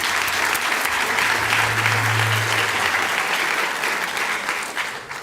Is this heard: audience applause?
yes